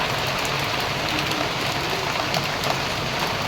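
Steady morning rain falls continuously, a dense even hiss of drops on surfaces with no pauses, moderately loud and close, with no voices.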